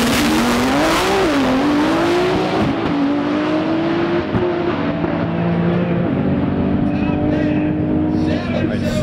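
A Nissan GT-R launches in a drag race at the TX2K21 event, its engine roaring loud and continuous with rising and shifting pitch, alongside other race car noise and crowd sound.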